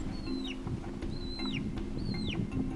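A chicken offered for sale by a market seller gives three high, rising-then-falling calls at regular intervals over a steady low background hum.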